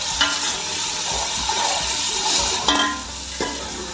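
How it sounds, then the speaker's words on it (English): Chicken pulao cooking in a pan with green chili: hot sizzling and stirring, then a sudden louder hiss as water hits the pan, with a few utensil scrapes. "add water so that the color will not become more brown."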